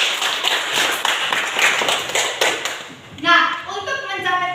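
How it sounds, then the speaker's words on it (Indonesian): A class claps for a student named Saskia, with a scattered round of hand claps that thins out over about three seconds before a voice starts talking. "tepuk tangan untuk Saskia"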